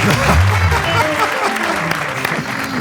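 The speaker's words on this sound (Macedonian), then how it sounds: "Доста е аплауз за Владко Лозановски, ја мислам доволно." Studio audience applause on a television talk show, a dense, continuous wash of clapping from many hands, loud and close, with a voice briefly audible over it.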